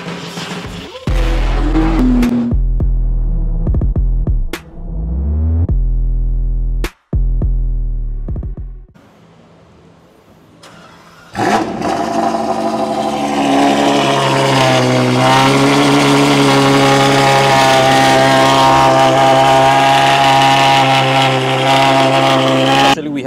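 A Ferrari 812 Superfast's engine loudly revs up and drops away in bursts while driving, goes quiet briefly, then holds a sustained, powerful roar with shifting pitch.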